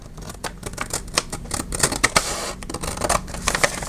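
Scissors cut open a paper grocery bag, a quick series of close, crisp snips and paper rustles in an uneven rhythm.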